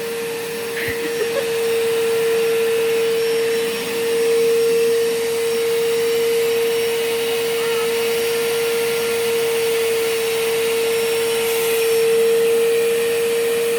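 A vacuum cleaner runs steadily as it cleans the floors of a home, a loud, close, continuous drone with a steady whine that holds for the whole stretch, with faint voices only in the background.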